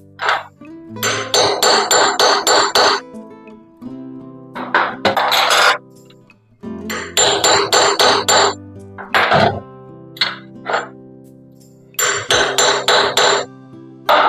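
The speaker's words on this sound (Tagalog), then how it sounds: "Ito po ay ang pipe screw extractor. Gamitin na po natin mga kabayan." Repeated metal hammer blows drive a pipe screw extractor into a broken sink faucet, coming in loud, rapid bursts of strikes separated by short pauses, close and with no talk.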